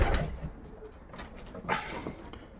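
A racing pigeon held in the hand gives short, low cooing sounds close to the mic, mixed with rustling and handling noise over a brief moment.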